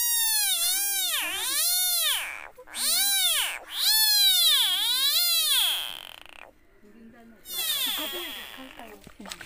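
A frog in the Konkan region of Sindhudurg, Malvan, gives repeated cat-like meowing calls, a series of rising and falling wails in bursts with short gaps, fairly close and clear over quiet night background.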